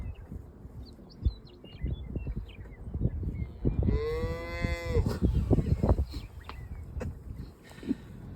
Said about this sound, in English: I mean, literally the cows.